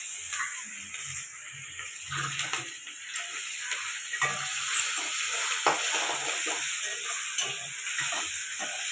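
Onion pieces hit hot oil in a pan for Bengali fish curry, giving a steady loud sizzle and hiss with occasional stirring scrapes and no talking.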